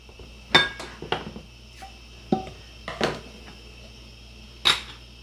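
A glass jar of pressure-canned hamburger meat is opened: a few sharp clinks and taps of glass and lid, spaced irregularly, close and fairly quiet in a still room.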